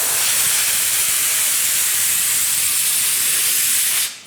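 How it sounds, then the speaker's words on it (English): Glue sprays steadily from a pressure pot sprayer onto a car body panel, a loud, continuous close hiss that runs without a break and then cuts off at the end. "Then you're going to spray this side."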